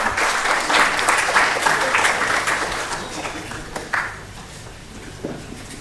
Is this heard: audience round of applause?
yes